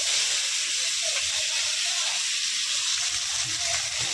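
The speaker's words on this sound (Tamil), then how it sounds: "இப்போ இந்த வெங்காயமும் பூண்டு போட்டுக்கலாம்" Onion and crushed garlic sizzle as they fry in a pan, a continuous close hiss and crackle of hot oil, steady throughout with no talking over it.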